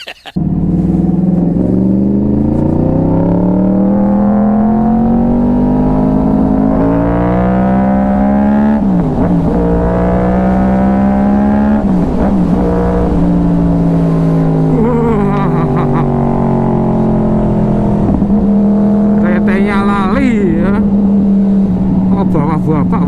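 A Yamaha R1 crossplane motorcycle engine revs loud and close, its pitch rising and falling through several throttle sweeps over about twenty seconds, with a rough, throaty roar sustained the whole time.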